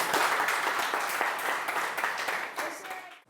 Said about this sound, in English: why don't we get big hands clapping for that?